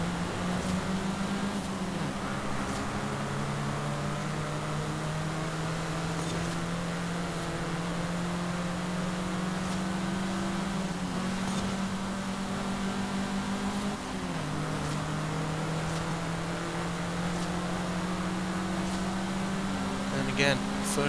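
Forza Horizon 5 game car engine revving steadily to high RPM, a loud sustained drone with pitch rising and holding, punctuated by brief shifts, with the car's talk heard faintly over it throughout.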